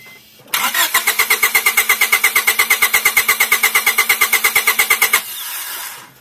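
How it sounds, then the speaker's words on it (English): A car engine cranks over on the starter during a compression test, a loud, rapid, even chugging rhythm of about thirty beats over four and a half seconds, then stopping into quieter background noise. "when I give him the word, he's going to try to crank this over"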